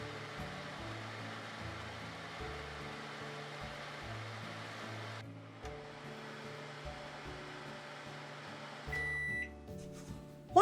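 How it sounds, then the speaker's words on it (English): A microwave oven hums steadily while melting unsalted butter in a coffee mug, a low droning buzz with shifting tones, ending in a short electronic beep. "put your unsalted butter in your coffee mug and melt the butter in your microwave"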